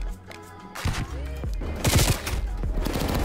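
Gunfire in a video game, rapid bursts of shots building into a dense volley, heard alongside game sounds and faint talk.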